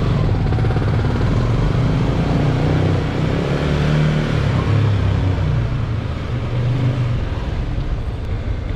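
A Yamaha Sniper 155 manual motorcycle pulls away in traffic as the clutch is released, its engine a steady, loud, close rumble that holds without a break throughout.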